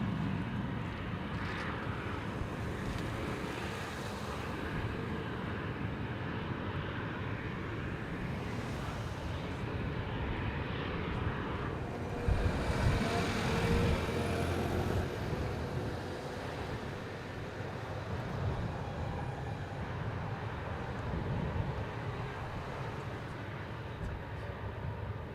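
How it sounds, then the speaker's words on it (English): An Air New Guinea airliner in 50-year livery, flight from Port Moresby, lands on runway 25 at Sydney, a steady, broad jet roar heard from a distance that swells briefly mid-way and holds to the end. "coming in on runway 25 here at Sydney"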